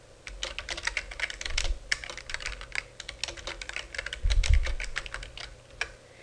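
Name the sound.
typing a campaign name on a computer keyboard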